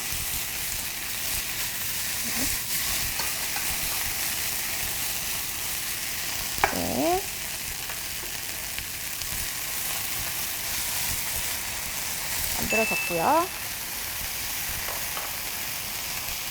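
Steady soft sizzling of onions frying in a pan, with a brief voice speaking twice over the hiss.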